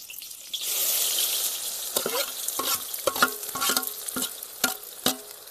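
Onions frying in a pan for tomato gravy, a bright hissing sizzle that starts as they go in, followed by repeated clinks and scrapes of a spoon stirring, close and clear with no voices.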